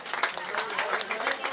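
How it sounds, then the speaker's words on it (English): Audience applause at a community sports facility event, a steady broadband patter of many hands clapping, with a voice talking over it throughout. "Big round of applause to Lisa Atwood."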